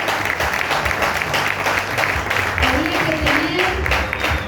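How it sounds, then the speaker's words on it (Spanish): Church congregation giving a strong round of applause, dense and sustained clapping mixed with crowd noise and some voices, and a brief tonal sound rising in the later part. "¿Cuántos dan un fuerte aplauso al Señor?"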